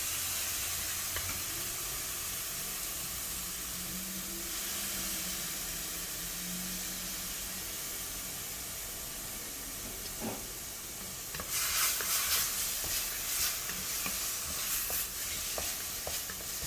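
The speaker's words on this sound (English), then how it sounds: "Add in the ginger garlic paste." Ginger garlic paste sizzling in a hot pan for Bindi masala, a steady close frying hiss with occasional sharper crackles and stirring scrapes, louder in the later part.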